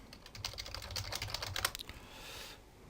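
Quick bursts of typing on a computer keyboard, soft close key clicks in irregular runs, ending in a brief pause.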